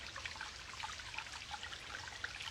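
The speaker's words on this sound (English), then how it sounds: "right here we have the water that it's flowing down from up the mountain, up the hill" A mountain stream runs down through a green forest hillside, its water trickling and babbling steadily at a faint, moderate distance, a soft continuous flow with small splashes and no voices.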